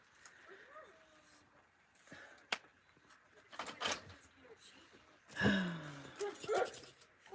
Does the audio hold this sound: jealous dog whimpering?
yes